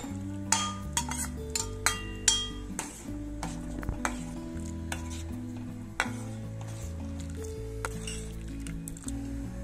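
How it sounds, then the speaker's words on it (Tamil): Chopped pasta simmers in milk in a pot for a sweet payasam while a spoon stirs it, giving soft scraping and a few light clinks against the pan over quiet background music. "இப்ப இந்த பாஸ்தாவை பால்ல போட்டு நல்லா வேக வச்சுக்கலாம்."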